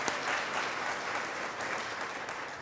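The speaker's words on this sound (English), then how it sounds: "I think we could all give Michelle a round of applause for setting this up." Steady applause from a symposium audience fills the room, a dense, even clapping that holds at a constant level throughout with no talking over it.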